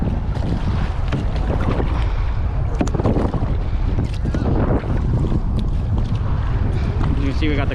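Wind buffets the microphone during a two-mile kayak fishing trip on a windy day, a loud continuous roar of gusts over water sloshing around the kayak.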